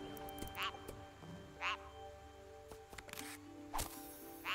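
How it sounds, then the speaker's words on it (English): Mud frog in the game TOEM croaking in short, separate calls, three or four spaced bursts over soft background music with no one speaking. "Mud frog."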